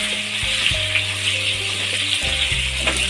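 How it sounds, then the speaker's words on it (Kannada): Thin potato slices fry in hot oil with a steady bubbling sizzle and occasional stirring clinks and scrapes, close and continuous with no voices. "ಎಣ್ಣೆಲ್ಲೇ ಫ್ರೈ ಆಗಬೇಕು"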